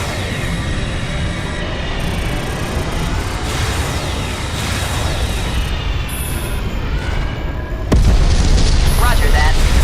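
Ships blowing up in the space combat game FreeSpace 2: a dense, continuous roar of booming explosions and rumbling blasts with sweeping tones, growing louder near the end, with no talk over it.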